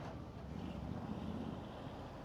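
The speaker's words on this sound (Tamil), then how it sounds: "சில்லுன்னு அடிக்குதியா காற்று." Steady wind rushing past during a motorbike ride on the way to Ooty, a continuous low roaring buffet of air against the microphone with no pauses or voices.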